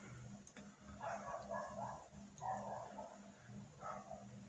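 Dogs barking in a park, a few short bursts of barking at a moderate distance over a low ambient hum, with no talking.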